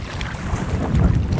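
Strong gusting wind buffets the microphone with a low rumbling roar, steady and close, with no voices, outdoors by fishing waters in northern Norway.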